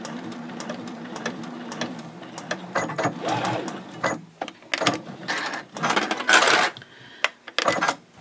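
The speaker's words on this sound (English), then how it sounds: "I'm going to stop right where I made that 4-inch mark and backstitch" Sewing machine backstitching a seam on a fold flat fabric project bag, close rapid mechanical whirring in short bursts with pauses and clicks between runs, loud and without talk.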